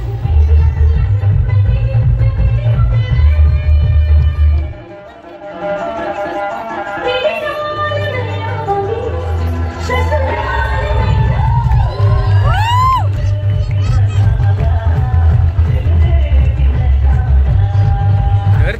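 Crowd cheering, whooping and shouting at a haldi celebration in Ahilyanagar, loud and continuous with children's shrieks and a brief dip partway through, voices mixed into the din.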